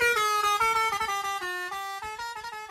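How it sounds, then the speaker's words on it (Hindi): A loud car horn sounds continuously with a stepped drop in pitch, like a vehicle honking as it speeds past and pulls away. "कोई गाड़ी हॉर्न बजाते हुए स्पीड में तुम्हारे पास आती है"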